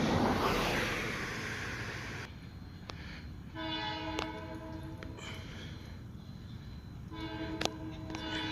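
A passing train sounds its horn in several sustained blasts over a steady rail rumble, starting after a brief burst of wind noise, fairly close and loud.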